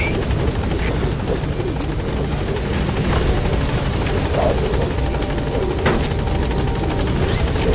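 The helicopter Pequod in Metal Gear Solid V hovers at a landing zone with a loud, continuous rotor drone and engine whine that fills the whole stretch steadily, with no voices.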